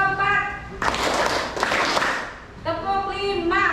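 Schoolchildren in an Indonesian classroom clap together in a counting clap game, a burst of loud, dense group clapping for about two seconds between a teacher's spoken instructions.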